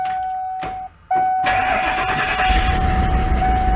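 A bucket truck's engine cranks and fires up loudly, with a leaking, falling-off exhaust manifold; a short cranking burst, a brief pause, then a steady rough rumbling idle that stays loud and close.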